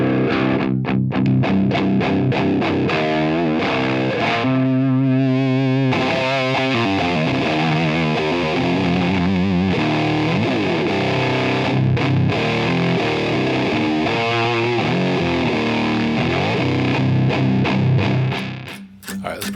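Electric guitar played through a GCI Jugendstil Heavy Metal fuzz pedal set to a basic fuzz tone with no EQ, heavily distorted chords and note runs ringing loud and continuous for nearly twenty seconds.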